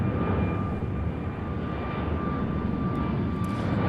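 Delta Airbus A220 jet taking off from runway 34 right, a steady loud engine roar holding at even strength throughout with a thin tonal whine above the rumble, with no voices.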